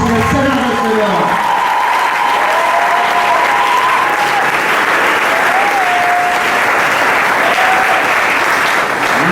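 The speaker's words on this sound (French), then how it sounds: "je voudrais qu'on applaudisse le Seigneur des Seigneurs" A church congregation applauds loudly and continuously throughout, dense clapping filling the space while a voice and sustained musical tones carry over the top.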